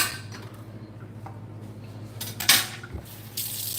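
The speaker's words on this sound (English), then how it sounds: "Give us a little rinse" Tap water runs into a kitchen sink while dishes are rinsed, a steady close wash with a brief louder splash midway and the flow swelling again toward the end.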